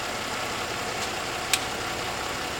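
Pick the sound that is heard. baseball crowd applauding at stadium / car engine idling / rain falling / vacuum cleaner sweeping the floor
car engine idling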